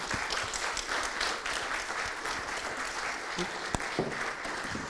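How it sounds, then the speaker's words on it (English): An audience applauding after a talk on open-source chip design at a radio conference, a steady wash of clapping at moderate distance lasting several seconds, with a few sharper individual claps and faint talk near the end. "And let us give him a warm applause."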